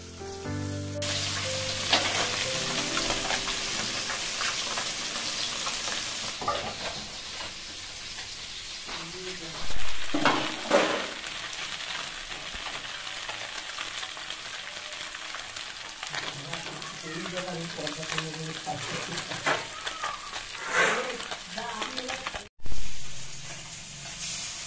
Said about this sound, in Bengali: তো আমি এখন রাগ মাছ কটা আগে ভেজে নিই।